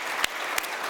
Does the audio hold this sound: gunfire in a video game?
no